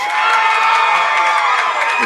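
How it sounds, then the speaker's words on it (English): Loud, large, boisterous crowd at a high school boys bowling finals match in an indoor bowling center, a continuous roar of cheering and shouting voices, close and steady. "there is a loud and fairly large, boisterous crowd here"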